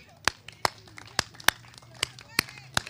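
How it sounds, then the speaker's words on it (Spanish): Audience clapping in time at a show, sharp separate claps landing roughly every half second, moderately loud, with faint murmuring underneath. "A ver las palmas, vamos a darle ritmo."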